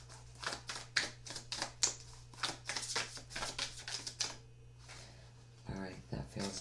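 Tarot cards drawn from a deck for a Capricorn monthly reading: a run of light, quick papery snaps and slides, close and fairly soft, over a steady low hum, with a short murmured voice near the end.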